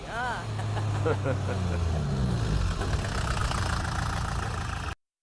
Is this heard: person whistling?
no